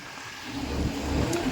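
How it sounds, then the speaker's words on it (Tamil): A boat's engine rumbles on the Chao Phraya River in Bangkok, a low steady drone that swells a little louder as it draws nearer. No one speaks over it. "இங்கே பாருங்கள் இன்னொரு ஒரு போட்டு வரும் வந்துட்டு இருக்கு"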